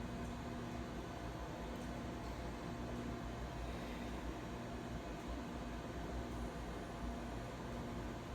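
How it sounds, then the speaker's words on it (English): A microwave oven hums steadily as it warms a dish of milk and sugar, a constant mechanical drone with a faint fan-like hiss and no breaks across the whole stretch. "I'm gonna take my milk and my sugar and I'm gonna pop them in the microwave just to warm the milk up a little bit"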